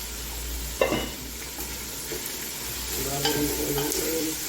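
Chicken fries in fresh oil, a steady close sizzle broken by scraping and clinking as it is stirred in the pan.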